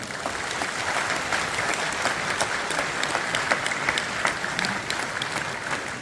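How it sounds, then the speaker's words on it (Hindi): An audience at a national lawyers' conference claps in welcome, a steady wash of many hands clapping together, loud and continuous throughout with no talk over it. "मैं आप लोगों से अनुरोध करता हूं कि कृपया अपने स्वागत में जोरदार तालियां बजाएं"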